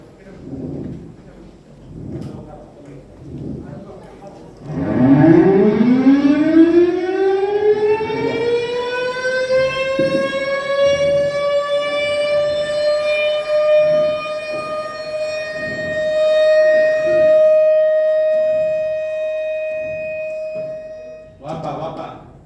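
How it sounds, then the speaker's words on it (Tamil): An industrial civil-defence siren winds up and holds a long steady wail after a chlorine leak drill in Cuddalore, preceded and followed by voices talking. "நார்மல் சைரன் கொடுத்துறேன் சார்."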